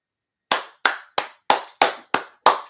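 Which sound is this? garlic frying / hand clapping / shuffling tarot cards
hand clapping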